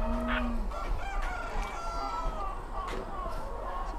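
Roosters crow repeatedly at a large chicken breeder farm, several calls overlapping at mid distance amid clucking and a steady background hum, with faint talk mixed in.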